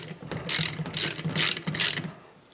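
A ratchet snugging down the cylinder head bolts on a small engine gives four quick bursts of close, crisp clicking, each with short pauses between, and no voices.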